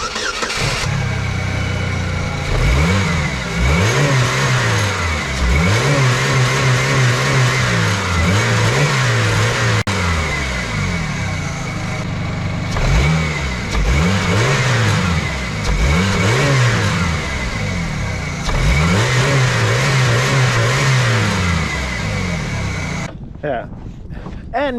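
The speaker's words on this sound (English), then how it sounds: "even though she's not super loud, this muffler is off the hanger" A project car's engine with its muffler hanging off the hanger runs and revs repeatedly in rising and falling cycles, loud and close, with a person talking over it at times.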